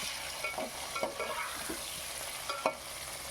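Raw jackfruit pieces, boiled earlier with salt and turmeric, fry in a pan until reddish-brown. A steady close sizzle runs throughout, with soft spatula scrapes and taps from stirring at irregular moments.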